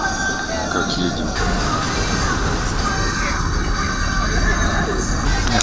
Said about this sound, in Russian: Сейчас едем в электричке.